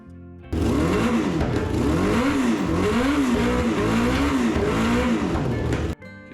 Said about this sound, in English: why I fired the car up and had it running